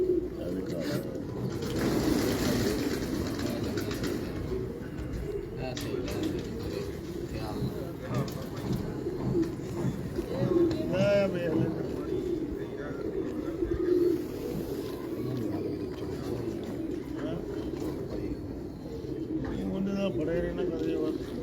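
Pigeons coo softly in the background at a pigeon farm, low repeated calls running under steady conversation between men throughout.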